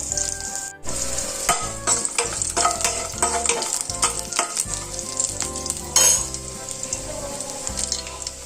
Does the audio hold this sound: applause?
no